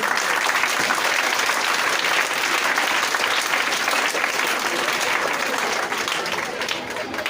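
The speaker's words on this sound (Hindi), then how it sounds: "इनके लिए फिर से एक जोरदार ताली।" Students at a Teacher's Day celebration in a coaching class give loud, sustained applause for a district topper, dense clapping that holds steady and eases slightly near the end.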